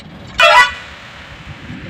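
A single short car horn honk, loud and near, lasting about a quarter second, over steady road and truck engine noise on an expressway toll road.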